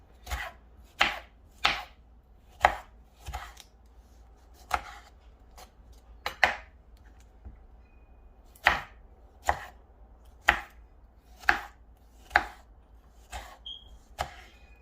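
A knife chopping tomato into small chunks on a cutting board, with about fifteen crisp, separate thuds at an uneven pace, close and clear in a quiet kitchen.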